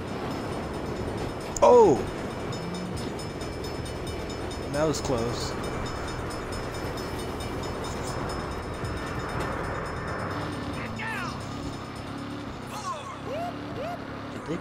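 A train rumbles past in the game Saints Row under a steady mechanical din, with a brief loud exclamation near the start and scattered game effects over continuous rolling noise.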